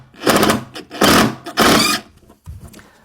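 A stainless steel decking screw driven into an MDF stair tread, the driver whirring in three loud bursts as the screw grabs slightly and then spins, followed by quieter handling sounds.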